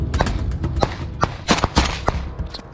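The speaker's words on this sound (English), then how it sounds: "Bullets cut through the air, grenades were tossed blindly toward the Ukrainians, and the ground shook from explosions." Rapid gunfire bursts and sharp cracks during combat between Russian and Ukrainian soldiers, loud, irregular shots in quick succession.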